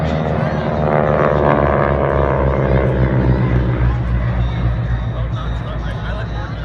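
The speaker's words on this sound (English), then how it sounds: "And then we will have our solo airplane coming by, easy to fly formation." A solo propeller airplane at an airshow passes near and loud, a steady droning engine tone that slowly shifts pitch as it goes by, with an announcer talking over it.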